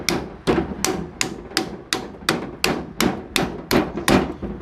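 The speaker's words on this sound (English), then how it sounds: "just take a hammer" Hammer blows bending steel tabs on a radiator being scrapped, about eleven sharp, loud metallic strikes at a steady, even rhythm, each ringing briefly before the next.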